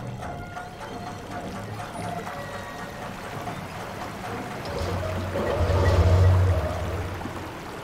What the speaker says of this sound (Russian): Так, это я спустил воду.